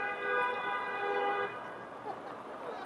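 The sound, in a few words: car horns honking on a Toronto street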